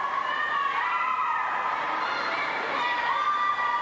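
Crowd cheering and applauding at a gymnastics championship in Canada, a steady, dense roar of spectators that carries on throughout, with faint commentator talk mixed underneath.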